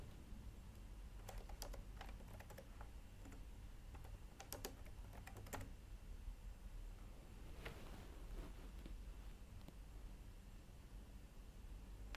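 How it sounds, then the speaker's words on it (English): Root password being typed on a computer keyboard during a VICIBox server installation: scattered clusters of quick key clicks over a steady hum of background noise, no talking. "Enter root password."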